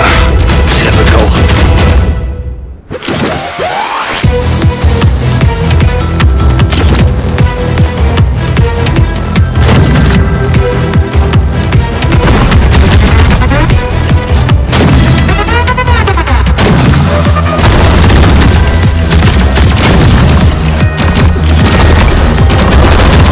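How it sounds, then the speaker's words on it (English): Cannon blasts and laser fire rage in the Akimbot game, a loud barrage of booms and rapid shots that continues almost without a break, apart from one brief lull near the start. "Praetors! Soldiers! Cannons! Lasers! Shooting! At us!"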